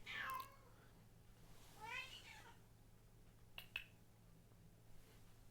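A house cat meows two or three times, faint and somewhat distant, with short separate calls and a couple of small clicks in between over a quiet low hum.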